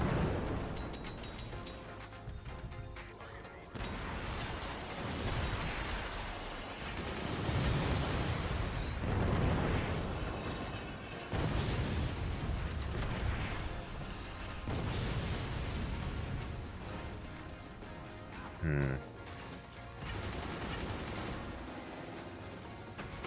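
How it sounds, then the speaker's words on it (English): Mortar fire in the Forts real-time strategy game, repeated booming shots and rumbling impacts layered into a dense, continuous barrage, fairly quiet overall with occasional sharper bursts. "Our top teammate's going eco late game, so he's just gonna get bullied by mortars."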